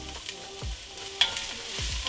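Onion tipped into a hot pan of fennel for a seafood stew, a quiet sizzle broken by a few soft stirring scrapes and clinks close by.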